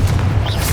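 Confringo, an explosive fire spell in Hogwarts Legacy, goes off as a short, loud, low boom with a rumbling body, close and dense, lasting under a second.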